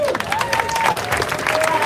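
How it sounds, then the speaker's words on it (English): An audience applauds teams at a SpaceX Hyperloop pod competition, a loud, close burst of dense clapping with crowd noise and some voices mixed in. "round of applause for all of you guys."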